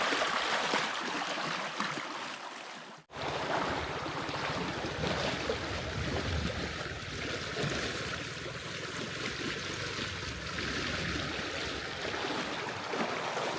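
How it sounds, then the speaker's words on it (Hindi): Fast-flowing canal water rushing steadily at the village of Ahirwas, a loud continuous broadband roar of flowing water heard close by with no voices. "यहाँ पर नहर का पानी देखो कितनी तेज गति से जा रहा है।"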